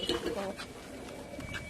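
Pigeons coo softly nearby while people talk over them.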